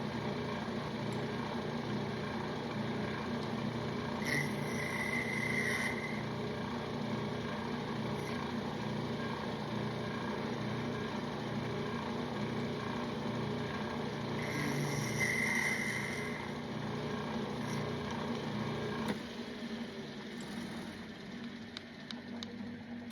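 A steady mechanical drone of a lathe running continuously while a cutoff tool faces off the end of a metal part, with brief higher-pitched whines from the tool, then the motor winds down near the end.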